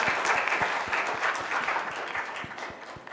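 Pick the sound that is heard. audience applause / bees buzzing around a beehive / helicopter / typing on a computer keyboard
audience applause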